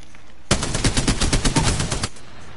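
The Triple Take rifle in the video game Apex Legends fires a rapid series of about a dozen sharp, evenly spaced shots up close, then stops abruptly.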